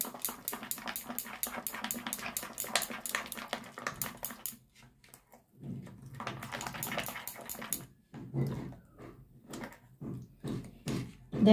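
Sour yogurt being stirred into a homemade skin-whitening pack, with rapid, even spoon taps and scrapes against a bowl in bursts separated by short pauses, close and fairly loud.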